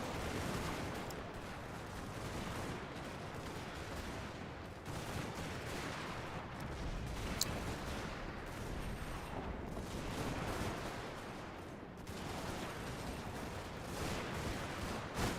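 Artillery and small-arms fire from massed units in the strategy game Steam & Steel, a dense, continuous wash of distant gunfire and rumbling shots with one sharp crack standing out midway.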